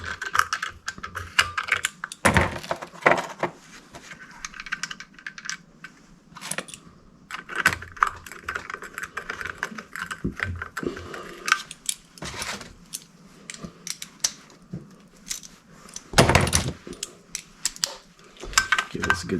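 A ratchet tightens bolts on a Duramax diesel fuel filter head of plastic and aluminum, giving quick bursts of close clicking and clattering separated by short pauses.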